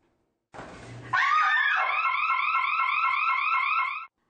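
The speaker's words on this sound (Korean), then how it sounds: "무언가에 놀란 여성이 비명을 지르는 순간 사이렌이 요란하게 울립니다." A woman's startled scream rings out in an empty women's restroom, setting off a scream-detecting safety alarm whose loud electronic siren wails in a rapid, repeating warble that continues steadily before cutting off.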